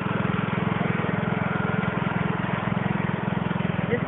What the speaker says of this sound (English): Hiding Easter eggs riding the lawnmower.